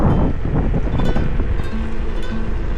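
Strong wind buffets the microphone while an iScooter iX4 electric scooter is ridden into a headwind, producing a loud, continuous rumbling roar with a faint motor whine underneath.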